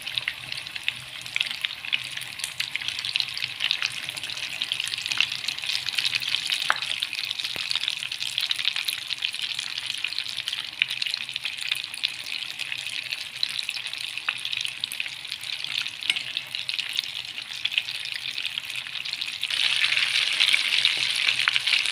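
Potato balls frying in a pan, a steady, dense sizzle of hot oil running unbroken throughout, close and fairly loud with no voices.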